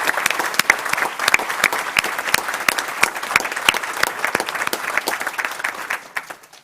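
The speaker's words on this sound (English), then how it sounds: "Let's give them another round of applause." Applause from the audience at a school board meeting, crisp individual claps forming a moderately dense, steady round that tapers off at the end.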